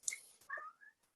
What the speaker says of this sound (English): Sorry if you guys can hear my cat.